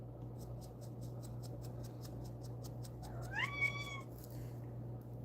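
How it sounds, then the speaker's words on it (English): A loud cat gives one drawn-out, rising meow partway through, close to the microphone. A steady low hum and a quick run of light ticking sit underneath. "she is definitely being loud. But she's a loud cat."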